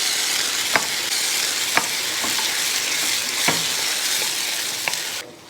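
Spinach puree and mutton sizzling steadily in a hot pan while a spoon stirs, scraping clinks recurring every second or so over a continuous loud fry, ending as the heat cuts off.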